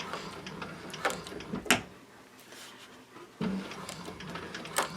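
Techsew 4800 Pro sewing machine back stitching, a steady mechanical whir of rapid needle strokes that pauses briefly midway, then resumes at close range with sharp ticking clicks.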